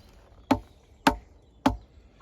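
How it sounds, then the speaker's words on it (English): A stone adze chops into wood in four evenly spaced, sharp, close strikes about half a second apart, each a crisp thunk with a short decay and no voices between. "the sound of a stone tool on wood"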